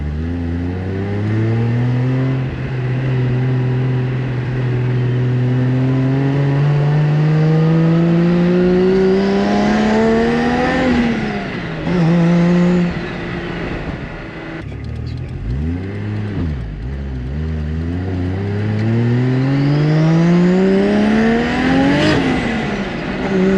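A 700hp fully forged Nissan C33 Laurel pulls through the gears at half throttle, its engine note climbing repeatedly and loudly with brief drops at each shift, close and continuous.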